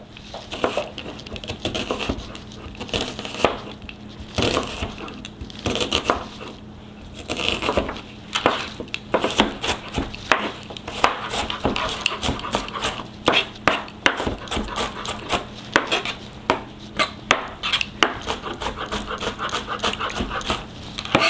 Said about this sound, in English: let's chop up our onion